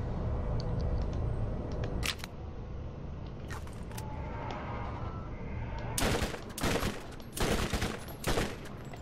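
SMG fire in Borderlands: a few isolated sharp shots, then rapid close bursts of automatic fire in quick clusters over low game ambience.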